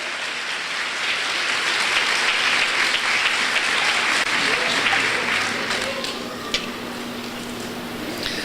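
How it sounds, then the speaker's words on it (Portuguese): A church congregation applauds steadily for several seconds, a dense, even wash of clapping from many hands that fades slightly toward the end. "Aplauda o Senhor."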